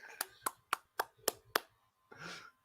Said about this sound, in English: Just clap for that